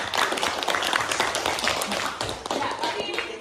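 A classroom of students clapping together, a dense, steady patter of applause lasting about three seconds, close and fairly loud.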